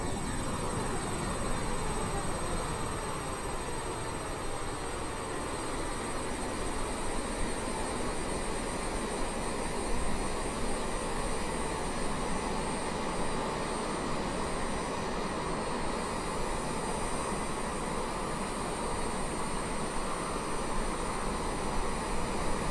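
HondaJet twin jet engines hum in cruise flight in Microsoft Flight Simulator, a steady, even roar with a faint whine that holds unchanged throughout, no speech.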